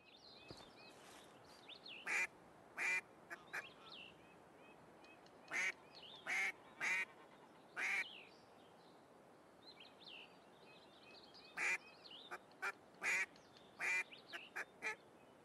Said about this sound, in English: So let's try calling a duck in.